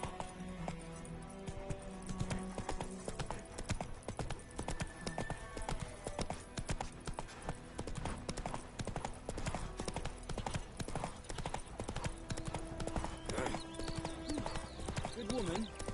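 Roach the horse gallops in The Witcher 3: Wild Hunt, with rapid rhythmic hoofbeats close up through the whole stretch, mixed with game music and some character speech.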